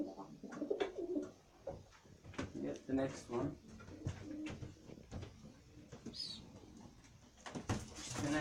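Pigeons cooing repeatedly while being handled for a paramyxovirus vaccination, close by, mixed with handling noises and a person talking throughout.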